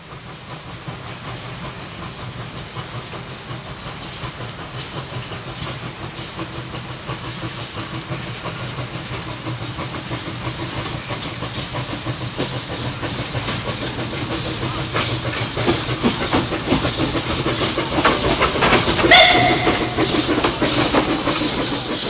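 A small narrow-gauge Orenstein steam locomotive at Viseu de Sus hisses and rumbles steadily with mechanical clanking, refilling water by injector, building toward a louder burst of hissing steam near the end.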